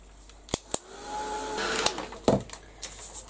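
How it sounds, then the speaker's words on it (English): Heat gun blowing hot air over a craft model, a soft whooshing hiss that swells in the middle, broken by a few sharp clicks and knocks, fairly quiet with no speech. "I'll give this a quick blast with the heat gun."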